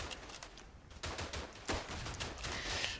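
Gunfire in the World War I shooter Verdun: faint, distant rapid shots and crackling volleys in irregular bursts, a soft fusillade rolling under low background noise.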